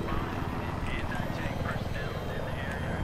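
A helicopter in the Battlefield 3 video game, a loud continuous rotor drone and engine roar filling the whole clip, with a voice talking over it.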